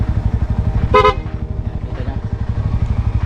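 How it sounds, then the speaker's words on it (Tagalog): A motorcycle engine idles with a throbbing pulse while a short burst of rapid horn sounds once near the start, loud and close. "yung rapid horn yun yung parang sunod-sunod"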